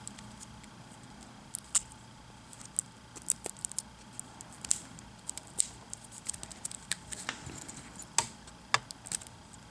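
Packs of Card Wars trading cards being torn open, with a steady run of crisp crinkles, rustles and sharp clicky snaps scattered close to the mic, quiet and with no talking.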